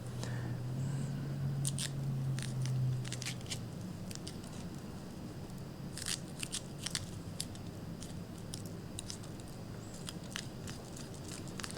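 A spoon scrapes seeds and membrane out of halved jalapeño peppers being prepared for bacon-wrapped stuffed jalapeños, giving repeated close, crisp scratching clicks in irregular bursts over a low hum, with no talking.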